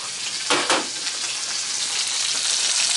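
Half a cup of onions frying in a Dutch oven over heat, a dense steady sizzle close by with two brief louder bursts near the start, no voices.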